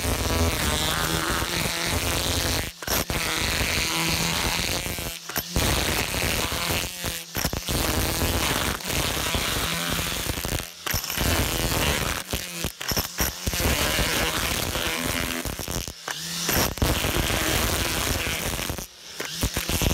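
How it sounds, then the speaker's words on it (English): A Milwaukee 18 volt cordless string trimmer runs at steady full speed, a loud continuous whirring buzz with brief dips where the throttle eases off, and no voices. "Time to test the Milwaukee 18 volt string trimmer."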